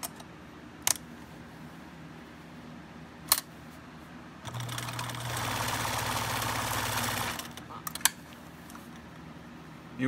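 An old-style Bernina 830 sewing machine runs in a steady mechanical whir for about three seconds during servicing, set between a few isolated clicks and knocks in a quiet room.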